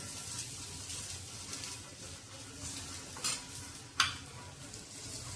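Elephant foot yam (suran) slices shallow-frying in oil in a pan, a steady low sizzle with bubbling, then a clink of utensils and a sharp metallic scrape or tap near the end; no talking.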